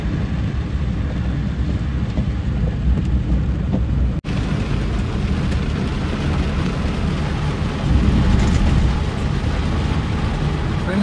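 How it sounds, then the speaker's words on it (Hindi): Heavy rain pours down in Hyderabad in a steady, dense roar, continuous and loud, with a brief break partway through and no voices. "नॉन स्टॉप गिरती जा रही है यार बारिश, बारिश रुकने का नाम ही नहीं ले रही है।"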